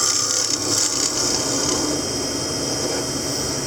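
A not-very-sharp chisel cuts wood on a spinning lathe while turning a wooden drink and smoke tray, giving a steady, close, loud scraping hiss over the machine's constant hum.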